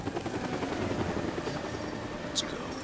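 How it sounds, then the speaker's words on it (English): A helicopter in the video game Deadlight: Director's Cut, its rotor chopping steadily throughout, a constant loud whirring drone with a brief high blip near the end. "That's the helicopter chasing my friends."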